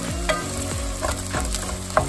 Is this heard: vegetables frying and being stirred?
yes